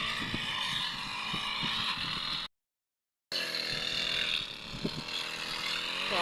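A grass cutter engine drones steadily in a rice field with a continuous buzzing whine, briefly cut out by a gap of silence before the motor resumes at the same level.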